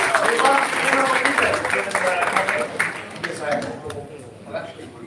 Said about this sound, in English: Give Nick a huge round of applause,